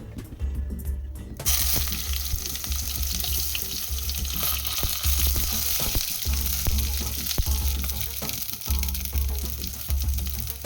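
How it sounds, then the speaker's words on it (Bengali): Eggplant pieces frying in oil for a shukto start with a burst of sizzle after a brief quiet moment, then a loud, close, steady crackling fry with occasional sharper pops. "এবার বেগুনগুলো ভাজবো।"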